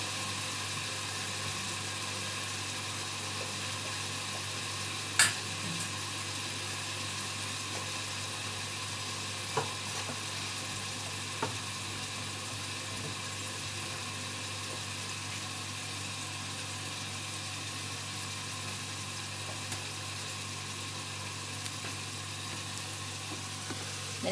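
Ingredients for yellow rice sautéing in a pan, a steady soft sizzle running unbroken and fairly quiet throughout, with a few faint clicks of utensils.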